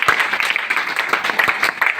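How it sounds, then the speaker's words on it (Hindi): Loud applause from an audience at a Hindi-language direct-selling talk, a dense steady patter of many hands clapping with brief sharper claps, filling the room without speech. "जोरदार ताली होना चाहिए।"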